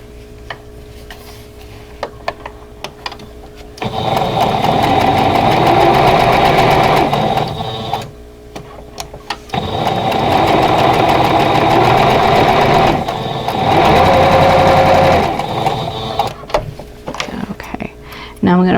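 A sewing machine stitches a vintage tulip quilt block in two long, steady runs of rapid mechanical chatter, with quiet pauses and light handling clicks between them.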